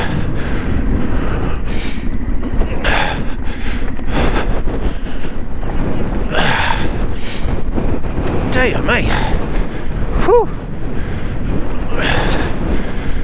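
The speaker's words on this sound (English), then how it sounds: "that breeze is just pushing me into the hill" Strong wind buffets the microphone in a constant roar on a hillside during a trail ride, with someone speaking and breathing heavily beneath the gusts.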